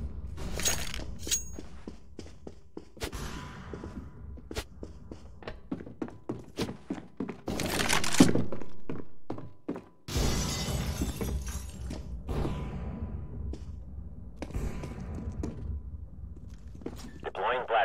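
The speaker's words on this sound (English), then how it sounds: "Deploying flashbang." Flashbang grenade in CS:GO going off amid match action, with sharp thunks, a shattering burst and dense bright noise, under frequent game voice lines and footstep-like clatter.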